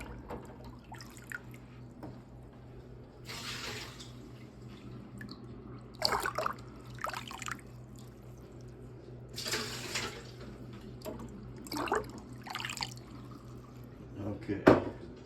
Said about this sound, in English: I might have to take some water out of here again.